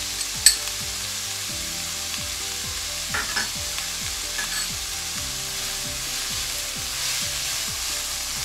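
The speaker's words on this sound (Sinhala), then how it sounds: "මේක පොඩ්ඩක් මධ්‍යම ප්‍රමාණයේ ගින්දරේ අපි මේක පොඩ්ඩක් බැද ගන්නකම්" Crushed chili flakes and garlic fry in a pan over medium heat with a constant close sizzle, and a spoon taps and scrapes now and then. It runs steadily at moderate loudness, with no speech.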